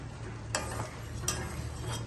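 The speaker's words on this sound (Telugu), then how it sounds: "పాకం ఇలా ఉడకాలండి బెల్లం ముక్కలు కరిగి కాస్త ఇలా ఉడితే సరిపోతుంది" Jaggery syrup simmers in a pan for rava kesari, a quiet, steady bubbling with a low hum beneath and a couple of brief scraping or clinking touches.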